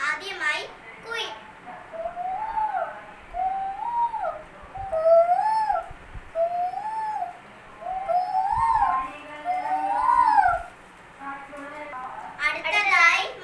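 A voice imitates a cuckoo in a mimicry performance, repeating rising and falling whistled calls in a rhythmic series, close and clear, with brief speech at the start and end.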